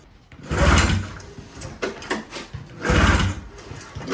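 The starter rope of a cheap used snowmobile is yanked twice, each pull a short rasping mechanical whir with a quieter pause between.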